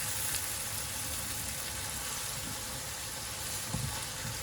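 Chicken liver frying in olive oil gives a steady, moderately faint sizzle, a broad hiss that holds evenly throughout, with a light clink or stir near the end.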